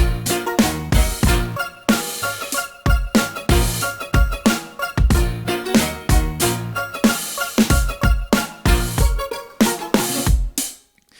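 A punchy hip-hop beat with steady kicks and snares, layered melodic phrases trading back and forth in call and response, playing loud until it stops abruptly.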